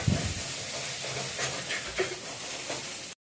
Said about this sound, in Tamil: வெங்காயம் போட்டு போட்டு வதக்கி